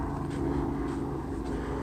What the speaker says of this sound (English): Got a chopper up in the sky right now.